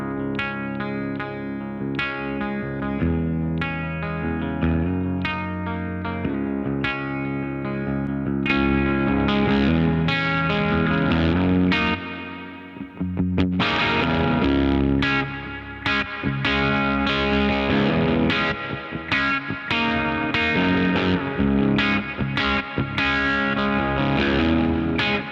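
An electric guitar plays through a Kaleidoscope ambient reverb pedal turned up to an extreme setting, with dense, washy, distorted sustained chords and strummed notes continuing loudly, with no talking.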